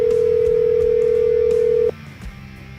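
A telephone line rings as a call is placed, one long steady tone that cuts off abruptly, followed by a few faint clicks on the line.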